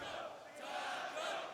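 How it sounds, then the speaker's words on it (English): A large arena crowd at the MLG Columbus CS:GO tournament cheers and roars in a sustained, somewhat distant wash of voices. "People cheering Taco now."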